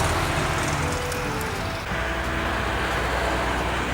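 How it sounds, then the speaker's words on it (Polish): A car rolls past nearby, its steady engine and tyre roar filling the air over a constant wash of road noise. "Mówiąc o Stanisławie Męcińskim, nie sposób nie usłyszeć przejeżdżającego samochodu."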